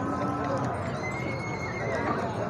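A white mare neighs at a busy horse sale, with hooves clopping close by and steady crowd chatter underneath.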